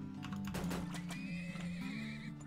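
Horses neighing in the Turmoil video game, a whinny over steady clip-clop hoofbeats and a low game music drone, fairly faint with no talk.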